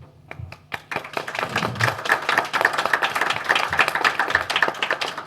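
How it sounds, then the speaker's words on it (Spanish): Audience applause after a reading at a university literature colloquium, dense steady clapping building over a few seconds and holding for the rest, close and fairly loud, with no talk over it. "Otro aplauso, por favor."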